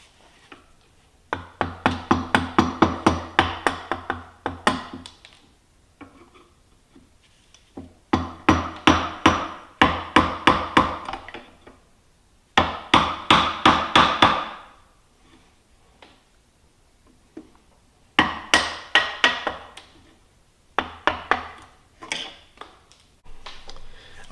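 Rapid bursts of sharp metallic tapping as dried resin is chipped off a saw-blade knife with a hammer, four or five loud clusters of quick strikes separated by short pauses.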